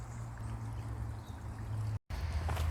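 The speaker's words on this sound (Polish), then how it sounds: "No tu leci taka woda z kamieni" Waterfall in a wooded valley, water pouring over stones as a steady broadband rush, close and continuous, with a brief dropout near the end.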